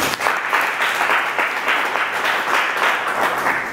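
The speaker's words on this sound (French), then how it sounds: "Donc on va quand même applaudir le personnel de DHL." Sustained audience applause for DHL delivery staff at a youth leadership and entrepreneurship training event, a dense steady patter of many hands clapping together at close range throughout.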